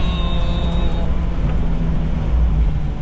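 A Subaru Sambar kei van's engine revs hard in fourth gear, heard from inside the cab as a loud, steady drone whose pitch slides as the revs change, over road rumble.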